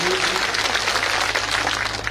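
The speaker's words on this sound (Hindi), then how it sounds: "जोरदार तालियां बजा दो" Loud, dense crowd applause at an outdoor political rally, a continuous roar of clapping close to the microphone with a low hum from the sound system underneath.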